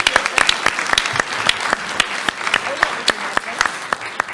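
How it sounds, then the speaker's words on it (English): An audience at an asthma panel event claps for the winner, with a steady wash of applause and several sharp nearby claps standing out at a regular pace, and some voices underneath. "Round of applause, please."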